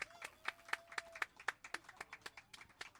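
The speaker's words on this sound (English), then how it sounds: "Big round of applause for David," Sparse clapping from a small audience for a performer at the Rising Sun pub in Witheridge; a few hands clap in an uneven, distinct rhythm, close and fairly quiet, with a brief tone in the background.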